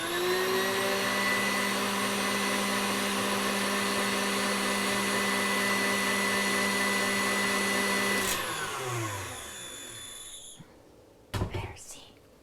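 An electric mixer whips meringue for a coconut cream pie with a loud, steady whirring hum that winds down and stops, followed by a few clanks near the end.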